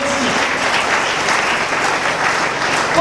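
A church congregation applauds steadily throughout, a dense, even wash of clapping from many hands in a worship service, with a voice faintly present beneath it.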